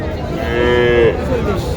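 A bull calf at a cattle market in Joypurhat lets out a single loud, close, drawn-out moo with no voices.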